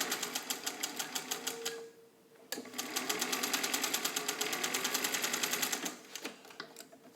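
A vintage all-metal Singer 201K sewing machine stitches through doubled webbing with a fast, even needle clatter that stops briefly, then resumes steadily for several seconds before slowing. It is close and clear, with no talking.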